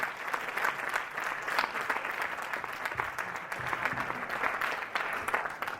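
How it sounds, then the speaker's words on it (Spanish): Applause fills a council plenary session in Móstoles, a sustained, moderately distant patter of many hands clapping at an even level throughout. "He aplaudido, ¿no?"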